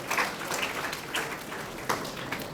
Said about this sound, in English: big round of applause for our dear Sarvabhauma Prabhuji